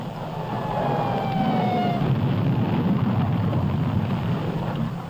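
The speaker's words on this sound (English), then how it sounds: "What has exploded is the ordinary explosive, which is an essential part of nuclear weapons." Detonation of the conventional high explosive inside a nuclear weapon: a loud, deep roaring rumble that swells after the first second and carries on steadily to the end, with no voices.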